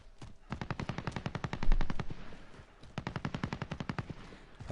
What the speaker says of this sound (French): ça tire à gauche, là